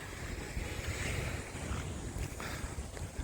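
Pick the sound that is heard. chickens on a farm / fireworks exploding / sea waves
sea waves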